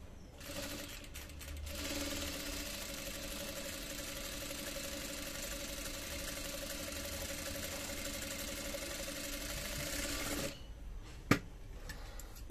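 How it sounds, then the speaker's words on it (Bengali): A new sewing machine runs steadily for about ten seconds as it stitches the neckline of a garment, a close, even mechanical whir that stops abruptly, followed by a single sharp click and quiet. "আমি এখন গলার চাপ সেলাইটা দিয়ে নিচ্ছি"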